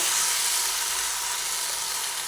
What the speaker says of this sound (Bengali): চিংড়ি মাছগুলোকে দিয়ে আবার দু তিন মিনিট মতো কষিয়ে নেব